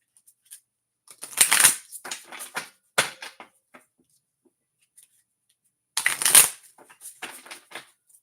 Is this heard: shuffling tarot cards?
yes